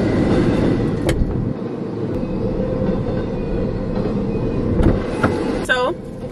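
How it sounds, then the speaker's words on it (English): A fast train rushes past close by with a loud, steady rumble and rattling clatter throughout, with sharp squeals and clanks near the end. "I'm waiting for this train anyway. It's going super fast"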